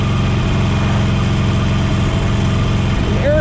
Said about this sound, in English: air-cooled 1200cc bike, plenty of power.